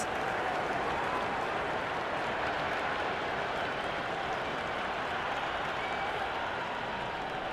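Stadium crowd at a Pakistan versus Australia T20 match in Cricket 26: a dense, steady wash of cheering and applause that holds at an even level throughout without a break.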